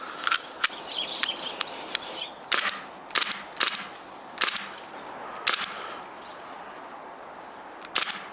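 A WE airsoft P08 Luger pistol fires roughly eight sharp single shots at uneven intervals, each a crisp snap with a brief mechanical clack, loud and close, with faint background noise between shots.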